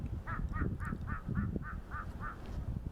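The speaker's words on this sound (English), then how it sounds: "It's nice crows talking," Crows caw in a regular series of about nine hoarse calls at Bukhansan mountain national park, moderately distant over a low murmur of ambient background noise.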